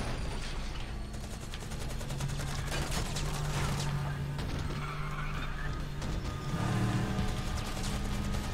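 Gunfire from a helicopter raking traffic in Need for Speed The Run, rapid bursts of shots amid dense engine and street noise, loud and continuous, with no clear speech.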